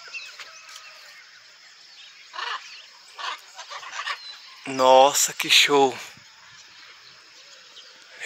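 Macaws give loud, harsh honking squawks in a quick burst of several calls up close, with scattered fainter calls before it; a person speaks over them.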